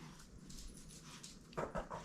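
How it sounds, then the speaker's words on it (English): A little dog indoors gives a few short, sharp barks and yips near the end after quiet whimpering, fairly faint. "She's a little bitty dog. She's got the loudest voice."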